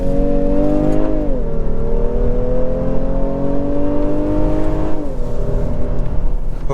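A 2023 Honda Pilot Elite with a 10-speed automatic accelerating, its piped-in engine sound a steady, loud droning hum that rises in pitch, dips at each upshift, then climbs again, with no talking.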